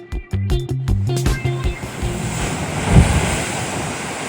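Ocean waves break at Steamer Lane surf spot in Santa Cruz, California, a loud rolling wash of surf that swells and peaks near the end, following a brief musical passage at the start.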